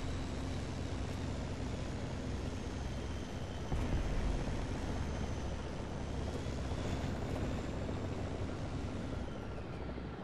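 A jet aircraft in the War Thunder combat game passes with a steady, broad roar that swells slightly midway and stays loud throughout, with no talk.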